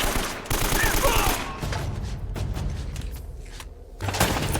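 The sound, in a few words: gunfire from a video game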